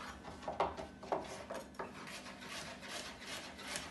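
Carrots being cut into pieces with a knife in a home kitchen, a faint, close run of rasping strokes and soft board taps with no speech.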